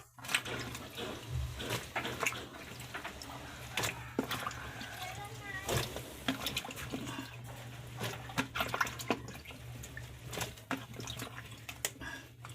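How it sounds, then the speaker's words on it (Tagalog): A pot of boiling water for cooking kamansi, heard up close as a steady bubbling, churning wash over a low continuous hum, with scattered clinks and splashes. "Ayan, may tubig na tayo na pinakulo. Lagay natin yung ating kamansi."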